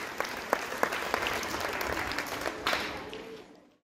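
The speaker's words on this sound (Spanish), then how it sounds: "a quien pedimos fuertes y calurosos aplausos" An audience at a school end-of-year closing ceremony breaks into warm, steady applause, a dense patter of many hands with a few sharp claps standing out before it tapers away at the end.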